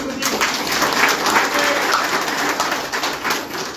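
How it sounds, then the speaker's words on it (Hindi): A training-session audience in Phalodi, Rajasthan, bursts into loud sustained clapping, a close, dense rattle of many hands with faint pigeon-like cooing mixed in. "सबसे पहले तो एक बार आप उनके लिए ताली बजा दो।"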